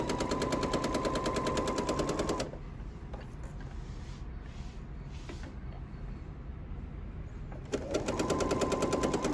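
Sewing machine stitching fabric in two fast, loud buzzing bursts at the start and end, separated by a quieter pause with light handling noise.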